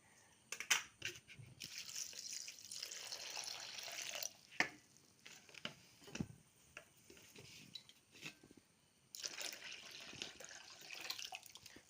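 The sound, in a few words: pouring water onto aloe vera and jaggery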